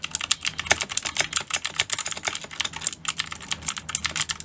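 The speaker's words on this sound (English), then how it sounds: "RK61 has blue switches" Steady, fast typing on an RK61 keyboard fitted with Cherry MX Blue switches, each crisp clicky keystroke close and distinct in a continuous run with no voices.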